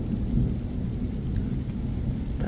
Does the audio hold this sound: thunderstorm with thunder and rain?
yes